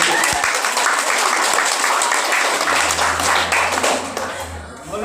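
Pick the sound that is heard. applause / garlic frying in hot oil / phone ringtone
applause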